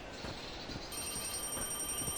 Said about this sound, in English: Someone's calling.